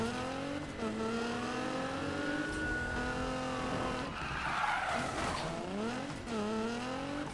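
Tires squeal in a long skid in the Need for Speed racing game, heard over a steady high-revving car engine whose pitch sweeps up and down, loud and continuous with no talk.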